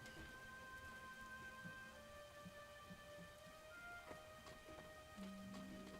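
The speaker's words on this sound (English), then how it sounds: "You cannot go out in that rain." Steady heavy rain pours throughout a Lego Star Wars: The Force Awakens video game level, a dense even hiss with scattered droplet patter and faint tonal hum from the game's music underneath.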